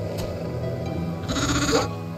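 Sheep bleating in the video game Shepherd of Light, one drawn-out wavering bleat close up over a low background hum, with a short click beforehand and no talking.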